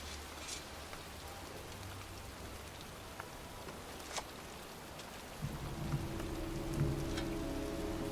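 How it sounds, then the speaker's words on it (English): Steady rain falls in a cemetery, a continuous soft patter with a few sharper drips, joined later by a low rumbling hum that swells toward the end. "It's raining."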